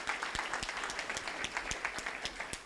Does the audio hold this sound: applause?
yes